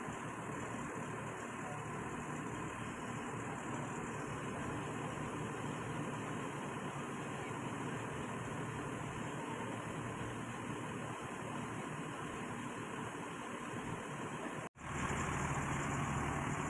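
Steady low idle of a Suroboyo city bus at Bungurasih terminal, droning evenly with faint surrounding noise, then a brief sharp drop before the engine note resumes.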